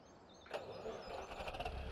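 A tractor engine in the farming video game Farming Simulator 17 cranks and catches about halfway through, then runs with a steady, moderately loud rumble and no talk.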